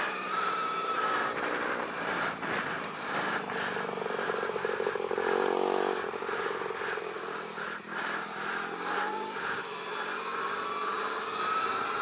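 Mini supermoto motorcycles race in a main event, close, buzzing engines revving and shifting pitch constantly, with several bikes overlapping and no talking.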